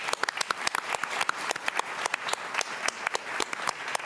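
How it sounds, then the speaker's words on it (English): Audience applause at a lecture on wrongful convictions in Canada, a steady burst of many hands clapping with sharp individual claps standing out, sustained for several seconds with no talking. "And let's give a round of applause."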